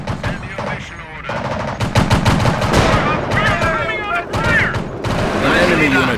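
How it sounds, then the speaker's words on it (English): Enemy gunfire in the World War II strategy game Company of Heroes, with dense overlapping rifle shots and machine-gun bursts crackling continuously alongside explosions and mechanical clatter, loud and close, mixed with brief in-game unit voice lines. "Receiving enemy fire."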